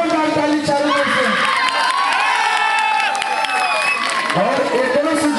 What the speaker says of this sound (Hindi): एक बार जोरदार ताली चालू कर दो